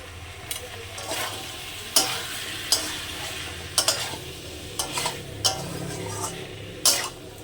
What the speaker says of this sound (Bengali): আবারও খানিক্ষণ আমি কষে নেব আমার আলু চিকেনটা কষা হয়ে গেছে